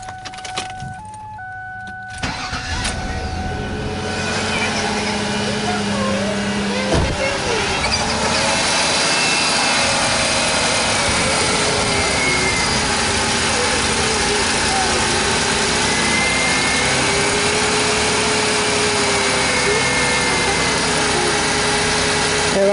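Ford Taurus with a 3.0L OHV engine cranks briefly and starts, then settles into a loud, slightly rough idle heard up close, with a voice talking over it at times.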